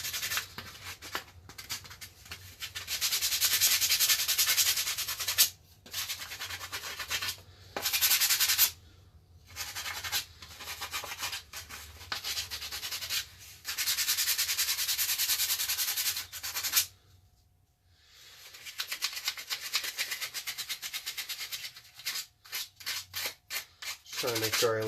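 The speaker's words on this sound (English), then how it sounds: "Trying to make sure I at least get some sanding on every crack and crevice." Scratchy sanding strokes rasp over hard plastic Nerf gun parts in long runs broken by brief pauses, close and steady, with no voices.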